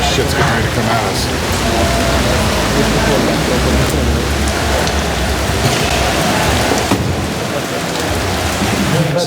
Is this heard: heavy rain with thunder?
yes